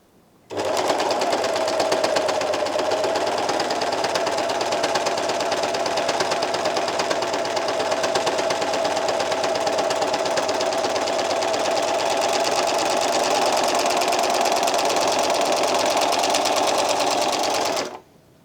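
An Elna Elina 792D overlocker runs at a constant high speed, a loud, even mechanical whir that starts abruptly and stops sharply after about seventeen seconds, with no talking.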